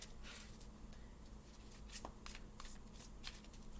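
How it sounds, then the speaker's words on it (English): Tarot cards being shuffled by hand, soft repeated riffling and slapping bursts at close range, quiet and intimate, with no voices. "So I gotta do this kind of shuffling."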